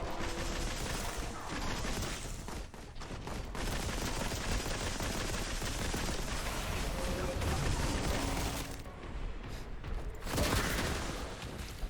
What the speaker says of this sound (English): That's always a bit of fun when you get the infinite ammo GRAV cannon.